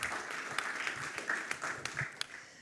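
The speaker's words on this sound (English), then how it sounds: "Let's give him a round of applause" An audience at an academic talk on evaluating researchers applauds a speaker, steady clapping from many hands that carries on at an even level throughout.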